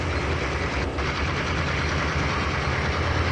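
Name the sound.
diesel locomotive engines running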